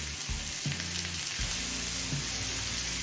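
Cauliflower and beans sizzle in a pan of hot oil for a mixed vegetable fry, with a continuous loud frying hiss, some stirring clatter, and a low droning hum beneath.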